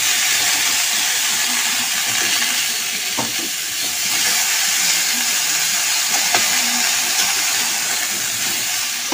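Mango pickle with salt and turmeric sizzles steadily in a pan as it is slowly sautéed, a loud continuous hiss with a few faint stirring knocks.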